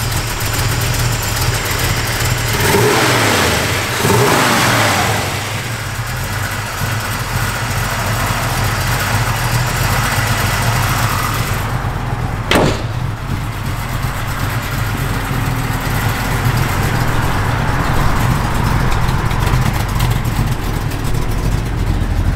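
A 1965 Chevrolet Chevy II engine with a cam idles nearby, a loud, steady, slightly lumpy rumble that runs without a break, with one sharp click partway through.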